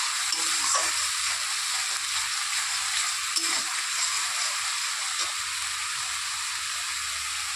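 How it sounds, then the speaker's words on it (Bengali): Spices sizzling and frying steadily in a hot pan for fish curry, a continuous bright hiss with occasional stirring scrapes, close and even in level, with no talk. "ভালো করে মশলাটাকে কষিয়ে নিতে হবে"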